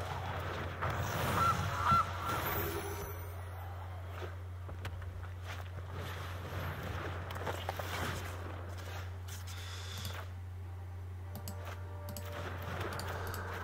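Cartoonish goose honk from the card game MTG Arena, a short squawk near the start over a steady low electronic hum, followed by light keyboard-like tapping and faint clicks.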